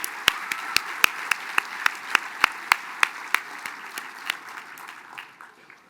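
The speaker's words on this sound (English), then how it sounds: "Let's give another round of applause for our Chief Executive," Audience at a Mille Lacs Band of Ojibwe assembly applauding their chief executive, a modest crowd clapping with distinct individual hand claps that gradually thin out toward the end.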